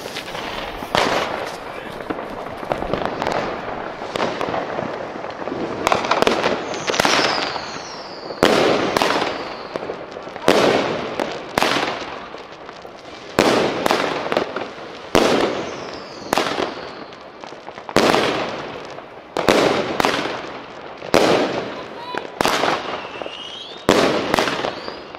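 A Blackboxx Hypnotika firework battery of 10 shots fires in sequence: loud sharp bursts repeating every second or two with crackling tails, mixed with voices reacting in the background.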